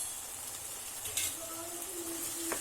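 Spiced raw tomato puree with chilli powder, coriander powder and garam masala cooks in a pan, giving a steady, soft sizzle and frying hiss throughout, with a faint stir or scrape near the end.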